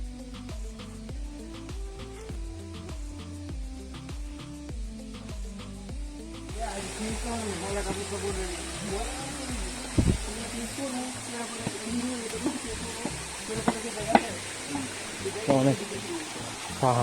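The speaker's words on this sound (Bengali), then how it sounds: "চারিদিকে শুধু পানির কলকলানির শব্দ" Water from the Khoiyachora waterfall stream in Sitakunda runs and gurgles steadily in the background, a constant rushing wash under a voice speaking briefly.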